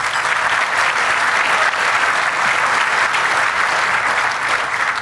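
Sustained, loud applause from a large audience at a college gala, with dense steady clapping lasting throughout.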